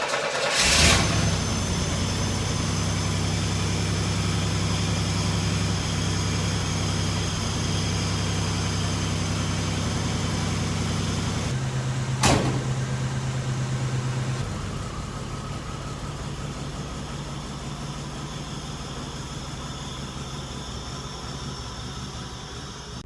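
Buick Grand National engine cranking and catching at once, then settling into a loud steady idle with a sharp click midway and a slight drop in level later, close up and without talk.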